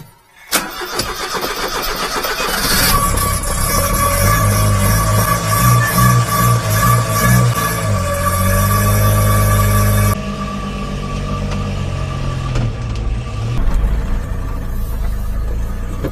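A mini-truck engine cranks and catches after a short pause, surges through a few loud revs, then settles into a steady, close idle as it warms up.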